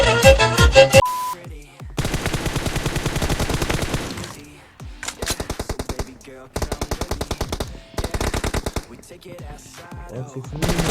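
Video game gunfire in a team deathmatch: loud rapid automatic bursts in several separate volleys with short pauses between, plus a brief electronic beep at the start.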